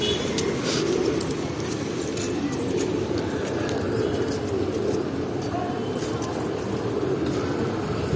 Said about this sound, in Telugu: అబ్బా పావురాలు ఫుల్ ఉన్నాయి ఇక్కడ